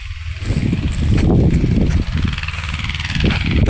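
A Mahindra Jivo 245 DI tractor engine runs close by in a farm field with a rotavator, a steady loud diesel chug with a few rises in revs. No one speaks.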